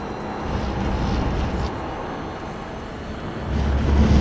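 A Toyota 86 race car in a GR Cup race at the Red Bull Ring, its engine droning steadily and then swelling louder near the end as the throttle is rolled back on, heard from inside the cockpit.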